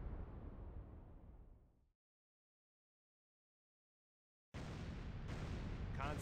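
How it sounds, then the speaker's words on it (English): A loud explosion detected on sonar in a submarine video game: a heavy, rumbling burst fades out over two seconds, then silence, then another dense broadband roar begins and continues. "Loud explosion on the bearing of Master 4."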